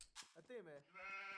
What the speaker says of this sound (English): Also a lot of sheep over here.